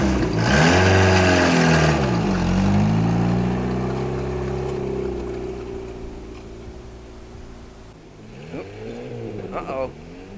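A Ford Fiesta engine, started for the first time in 17 years, revs hard and pulls through gear changes with rising and falling pitch, fading as the car drives a lap, then revving again nearby.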